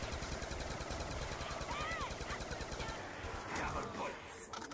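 Rapid machine-gun fire from the video game Buried rattles continuously in dense bursts, loud and close, with a few faint metallic whistles over the steady barrage.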